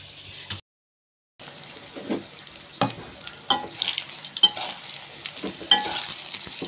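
Eggplant frying in hot oil, stirred and turned with sharp scraping clatters and bursts of sizzle after a short silent gap, close and fairly loud, without speech.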